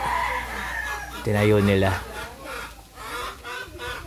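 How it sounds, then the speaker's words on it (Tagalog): Chickens cluck and squawk nearby, one loud burst standing out briefly, with a person speaking over the farmyard noise. "Ay, ingay ng manok ah."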